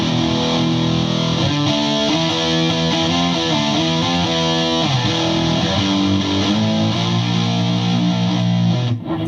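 A Nash electric guitar with a maple neck, played through heavy distortion on the bridge pickup: sustained chords and riffs ring loud and steady for about nine seconds, then cut off abruptly.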